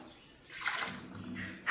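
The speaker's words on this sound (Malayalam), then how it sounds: "വെള്ളം ഒഴിച്ചു കൊടുക്കുക." Water poured into a pressure cooker holding carrots, a short splashing rush that swells for about half a second and then settles into a softer trickle.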